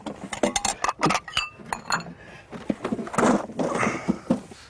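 Ice cubes in two sets, made from water of slightly different colours, clink and knock together on a beach, giving a close, bright, irregular run of glassy taps and rattles with no talking.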